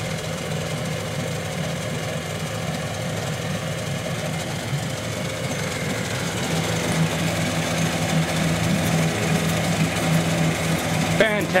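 A Suzuki 9.9 HP outboard motor runs steadily at idle with a light mechanical hum, growing slightly louder toward the end, with a voice heard briefly.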